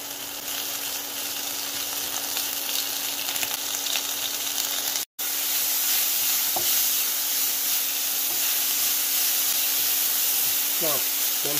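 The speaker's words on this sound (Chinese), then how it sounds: "这样煸炒一两分钟之后，盛出备用" Asparagus stir-fries in a little oil in a wok: a dense, steady sizzle and hiss fills the whole stretch, with a brief dropout and a few faint utensil clinks near the end.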